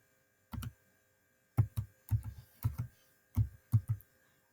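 Short bursts of key presses on a computer keyboard as an equation is entered, six quick clusters of clicks, close and fairly quiet over a faint steady hum.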